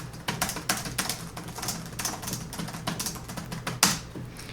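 Steady clicking of the keys on a 2006 Dell 12-inch gaming laptop, typed at a quick, even pace, slightly rattly and close, with one louder tap near the end.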